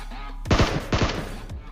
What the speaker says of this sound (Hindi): अब मैंने यहाँ पर उसको एक हेडशॉट मारा